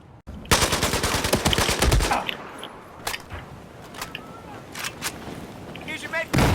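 The A94 rifle fires in Battlefield 4, a rapid automatic burst of close, loud shots for about two seconds, then scattered single and distant shots through in-game ambience, with a voice talking over it.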